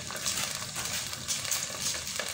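Neem leaves being stirred in hot oil in a pot, a dense hissing sizzle with faint scraping stirs, steady and close without speech.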